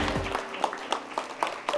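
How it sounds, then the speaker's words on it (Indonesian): A small studio audience claps at a television talk show taping, with dense applause and a few sharper individual claps standing out, close and steady. "tepuk tangan"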